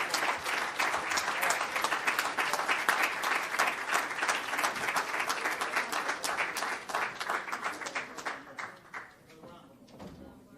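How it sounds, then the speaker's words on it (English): A crowd at a Nation of Islam gathering gives a long, warm round of applause, loud and dense for most of ten seconds before it thins into scattered claps. "Let's give them a thunderous, warm round of applause."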